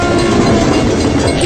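A big, fast train rushes past at a rail crossing in a public safety announcement, a loud, steady, close roar with rattling wagons filling the whole moment.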